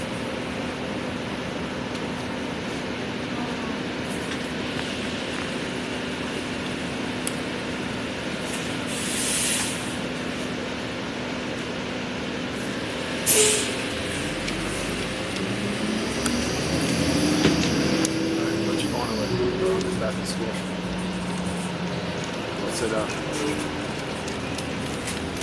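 A 2009 New Flyer D40LF city bus of York Region Transit, newly refurbished, runs with a steady low engine drone and broadband rumble throughout, rising and shifting mid-way with a brief sharp transient and whining tones.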